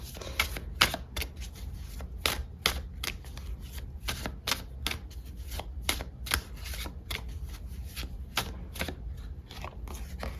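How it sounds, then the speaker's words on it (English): Lenormand cards from a deck used for a love tarot reading are drawn and shuffled by hand, giving a steady run of crisp papery flicks and snaps for several seconds, close up and with no talking. "let's pull some Lenormand cards and see what's going on for you"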